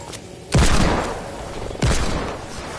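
Two loud gunshots from a video game, each a sharp booming crack with a long rolling tail, spaced just over a second apart against a steady background rumble.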